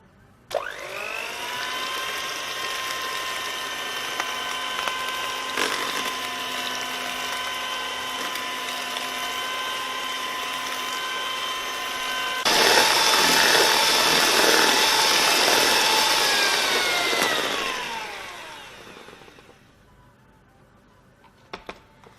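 Electric hand mixer whirring steadily through no-bake Oreo cheesecake filling with whipped cream folded in, a sustained motor whine that grows louder and rougher midway, then winds down and stops near the end.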